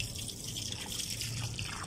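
Water trickles and drips into a plant pot in a garden during scorching heat, a soft continuous splashing with light dripping detail, no talking.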